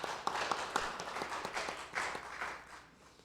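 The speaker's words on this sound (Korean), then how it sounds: "우리 두 속회가 더 건강하게 또 아름답게 세워질 수 있도록 다시 한번 큰 박수로 축복해 주시기 바랍니다" Congregation clapping during a Sunday church service, a fairly quiet, loose patter of many hands with separate sharp claps standing out, tapering toward the end.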